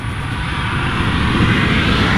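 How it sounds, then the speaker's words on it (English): A modded Mopar 361 V8 in a 55-year-old truck cranks over steadily, a loud, continuous mechanical drone with a dense low rumble that holds constant throughout without catching. "I'm hoping this will start the truck up again."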